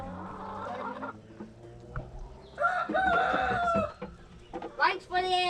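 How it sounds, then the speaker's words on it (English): Farmyard chickens cluck on and off, then a rooster crows loudly near the middle and again at the end, close by, amid outdoor background noise. "See that chicken right there?"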